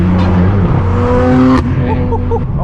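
A straight-piped BMW M4 F82 roars loudly up close, its harsh exhaust rising in pitch as it revs, then crackling and falling away at the end.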